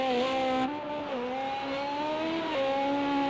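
Race car engine in a sim racing game at the Catalan circuit during endurance qualifying, a loud steady whine with pitch rising and shifting through gears, heard alone without talk.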